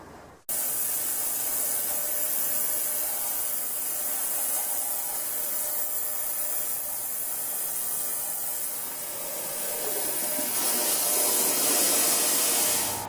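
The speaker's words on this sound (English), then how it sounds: "That was a new ultrasonic cleaner. Loud as hell." A new ultrasonic cleaner runs with a two-stroke carburetor inside, a loud, steady, high-pitched hissing whine that switches on abruptly and holds close and constant, swelling slightly toward the end, with no voices.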